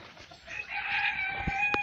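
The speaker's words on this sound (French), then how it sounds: "Voilà, les pondeuses." Laying hens and a rooster in a backyard flock, with clucking and crowing building into a steady chorus that grows louder, plus a few sharp bird calls near the end.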